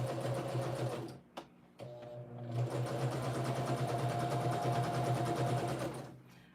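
A sewing machine runs steadily while stitching the staggered seams of a pillow cover, its close, even mechanical whir interrupted by two brief pauses before carrying on without talk.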